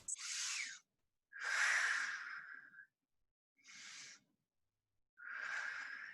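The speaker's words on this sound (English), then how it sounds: "take 2 deep breaths." Four slow, deep breaths taken during a stretching exercise in a fitness class, each a loud, airy inhale or exhale lasting about a second, separated by short silences, with no talking.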